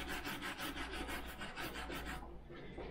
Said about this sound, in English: Brushy, just for polishing